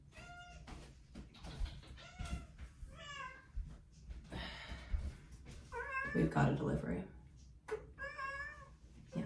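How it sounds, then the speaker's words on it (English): A cat meows repeatedly at a door, its calls rising and falling in several distinct cries, close by, while a person talks over and between them. "That's my cat at the door."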